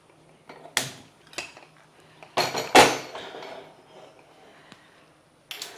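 A metal pressure cooker filled with a Kerala beef bone and tapioca dish is handled and set on a kitchen stove, giving several sharp, separate clanks and knocks at close range with quiet gaps in between.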